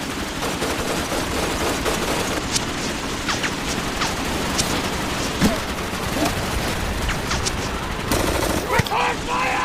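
Bursts of automatic gunfire and single shots crackle through a chaotic firefight in an action movie, dense and continuous under a wash of battle noise, with shouting voices mixed in.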